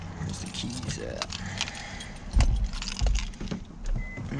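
Keys jangle in short metallic bursts during work on a car's oil cooler and cooling system, mixed with low rumbling handling noise and nearby voices talking.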